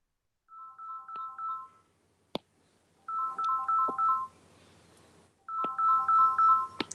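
A phone ringtone for an incoming call plays as three short bursts of a repeating electronic melody, separated by brief gaps and a couple of sharp clicks, fairly near in an otherwise quiet room.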